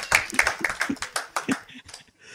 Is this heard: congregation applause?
yes